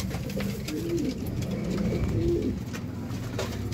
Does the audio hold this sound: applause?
no